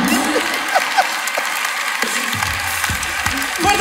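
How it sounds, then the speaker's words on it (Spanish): Loud applause follows a call for a big round of clapping during a Spanish-language comedy bit. Scattered short bursts and vocal sounds mix in over nearly four seconds. "¡Fuerte aplauso!"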